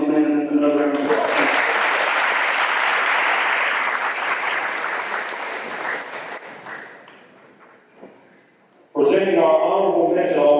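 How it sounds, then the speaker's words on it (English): Enthusiastic audience applause at a high school football banquet, a dense sustained clapping that fills the room for several seconds, then thins and fades before a voice speaks over a microphone. "If you would, give all these men another round of applause."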